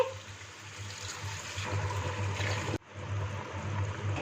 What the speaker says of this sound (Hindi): इसमें 2 गिलास पानी डाल देंगे।